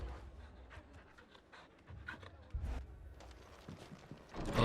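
Dog panting in the Final Fantasy XVI video game, a steady breathy rhythm beneath game ambience and scattered footstep-like sounds, growing louder toward the end.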